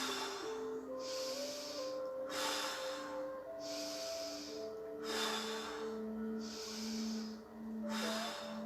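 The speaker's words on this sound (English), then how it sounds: "And breathe deep again." Slow, deep breaths during a yoga exercise, each long inhale and exhale a soft, airy rush repeating at an even pace, close and quiet over a calm sustained musical tone.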